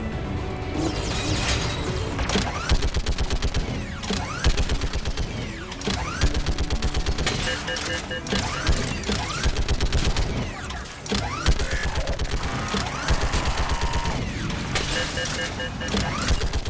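Continuous rapid-fire bursts from a gun turret in the Mass Effect 3 sci-fi game, loud and close, with dense rattling shots layered with mechanical clanks and crashing impacts throughout.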